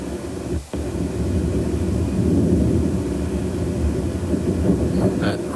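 A time-compressed infrasound recording made before the Space Shuttle breakup plays as a dense, rumbling low roar with bursts of energy, steady throughout apart from one brief dropout early on.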